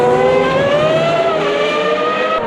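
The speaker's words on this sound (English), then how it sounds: "We are trackside now, and again, just to hear these cars go by." Historic race cars with V8, V10 and V12 engines roaring past trackside at Monza in Automobilista 2, a loud, sustained engine note whose pitch drifts gently through the passes, with no voices.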